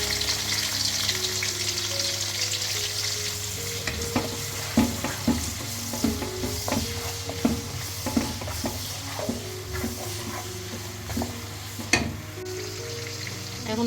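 Onions frying in a pan make a continuous close sizzle, broken by repeated scraping and clinking strokes as a spatula stirs them. Nobody talks.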